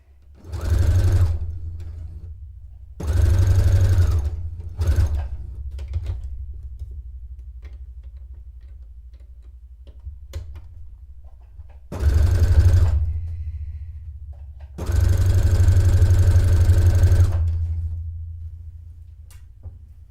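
A domestic sewing machine runs in several short, loud bursts of close mechanical whirring, separated by quiet pauses with faint handling clicks, during a dressmaking session.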